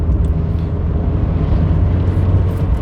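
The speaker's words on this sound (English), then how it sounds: "Can you hear that exhaust? Booming away." A 1997 Hyundai Lantra 2.0GSi's exhaust booms on the road, a loud, steady low drone that continues without a break.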